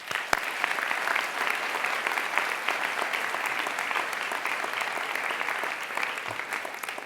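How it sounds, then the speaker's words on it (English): Steady, dense audience applause fills a convocation hall during university orientation week, a continuous wash of many hands clapping at even loudness from start to finish with no talk over it. "let's give all of these leaders, organizers, and volunteers a round of applause."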